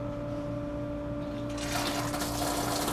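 Coolant flowing on a Tormach 1100MX CNC mill, a steady water wash that swells into a louder gushing spray partway through over a constant machine hum.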